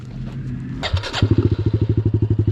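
A new dirt bike engine kicks to life after a rumble and a clank, then settles into a close, rapid, pulsing idle.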